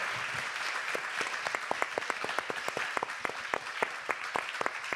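A fairly quiet audience claps for a panel at a voting rights event, with distinct individual handclaps rippling steadily throughout and a soft crowd wash underneath.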